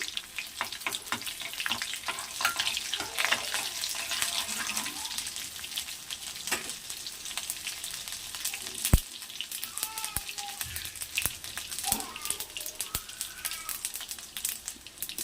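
Cumin and mustard seeds frying in tempering oil for a spinach dal, a dense crackling sizzle with bursts of popping and occasional sharp clinks of stirring, steady and close without voices.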